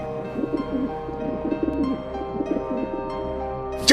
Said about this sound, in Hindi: अरे ये कबूतर तो चिट्ठी लेके आया है।